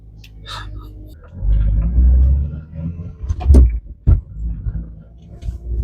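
Nissan S13 fitted with a Mercedes engine rumbling as it drives, engine note swelling and dipping with throttle, a few sharp knocks and clunks, close and moderately loud.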